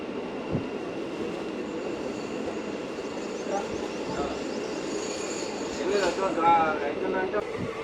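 A Kacheguda–Nizamabad DEMU train runs steadily along the track, a continuous rumble of wheels and carriage with brief squeals and clatter, louder near the end.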